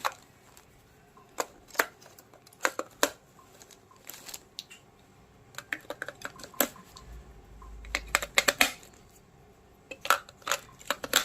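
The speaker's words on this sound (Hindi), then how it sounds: "अभी मैं बैटरी इंसर्ट करता हूं।" Batteries going into the battery chamber of a Dr Odin digital blood pressure monitor, heard as a scatter of small, close plastic clicks and snaps in irregular bursts with quiet gaps between.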